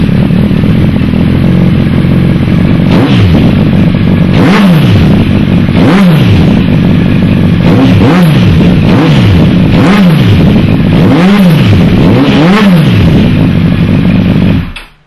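Honda CBR1000RR motorcycle fitted with a Yoshimura exhaust pipe, loud and close, idling roughly and then blipped in about seven sharp revs spaced a second or so apart, each rising and falling, before cutting off at the end.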